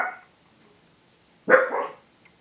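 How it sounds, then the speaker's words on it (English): Dogs barking indoors: a short bark at the start, then a louder, rougher bark after a pause, close by and with no voices. "My dogs are barking."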